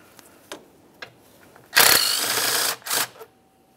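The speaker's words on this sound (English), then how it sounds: "Remove that mounting bolt." A 10mm mounting bolt is being removed from a 2005-2010 Dodge Dakota 4.7L V8 during fuel injector work, heard as a few faint clicks followed by a short, loud whirring burst of a power tool, then two brief follow-up bursts.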